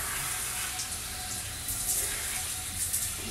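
Shower water pouring like a waterfall, a dense, steady rush of splashing water that stays loud and even throughout, with no voices.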